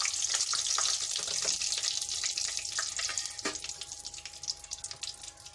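Whole cumin seeds, curry leaves and black peppercorns sizzle and crackle steadily in hot oil in a wok, with bright hissing and scattered pops, close and loud at first, easing slightly toward the end.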